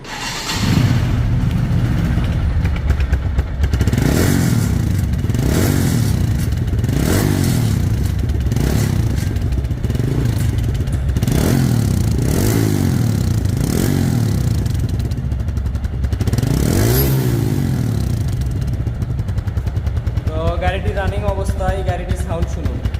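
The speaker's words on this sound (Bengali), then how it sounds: "এই গাড়িটির এখন সাউন্ড শোনা যাক গাড়িটির সাউন্ড শুনলে আপনারা বুঝতে পারবেন এই গাড়িটির ইঞ্জিন কোয়ালিটি কেমন" Engine of a second-hand 2021 TVS Stryker 125 motorcycle in good running order: a loud, close idle with repeated rising and falling revs, a throttle blip every couple of seconds over a steady engine drone.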